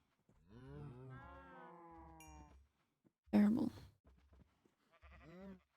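Cows moo in the Minecraft video game, with several drawn-out, wavering low calls spaced across the stretch and a brief louder burst of game noise in the middle.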